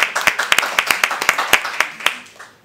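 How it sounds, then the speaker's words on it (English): A small audience at a Temple City city council meeting claps in a sparse, uneven patter of distinct sharp hand claps that thins and fades out near the end. "We're going to clap."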